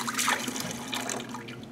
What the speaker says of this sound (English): And then we'll rinse.